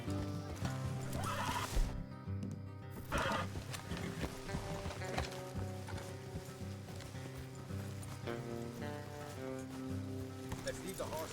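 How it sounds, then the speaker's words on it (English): Horses neigh and their hooves clip-clop in Red Dead Redemption 2, heard under steady game music with a voice speaking over the scene. "Let's leave the horses here and go the rest on foot."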